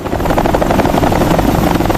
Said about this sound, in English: Helicopters lifted the crew toward the USS John P. Murtha for medical checks.